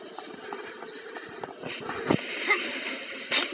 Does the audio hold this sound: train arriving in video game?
yes